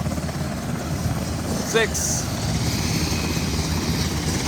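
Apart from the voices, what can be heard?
Virginia State Police helicopter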